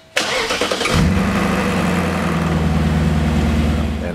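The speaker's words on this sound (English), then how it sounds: "The VANOS rattle on startup, during operation, during idle, is a normal function of the VANOS system." A BMW E39 M5 engine cranks and catches with a sharp burst, then settles into a steady, loud idle with a persistent metallic VANOS rattle.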